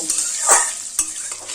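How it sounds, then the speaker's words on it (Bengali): Short burst of potatoes sizzling in a pan over a medium gas flame, with a couple of quick scraping stirs cutting through the steady hiss. "গ্যাসের ফ্লেমটা মিডিয়ামে রেখে আলু দু মিনিট ভেজে নেব"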